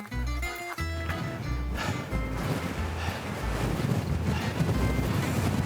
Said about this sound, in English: Bit windy, pretty high up.